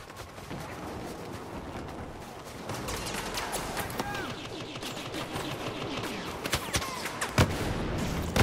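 Sustained gunfire fills a Star Wars Battlefront battle, with rapid blaster shots, bursts and heavier impacts over a dense, noisy combat background and occasional voices.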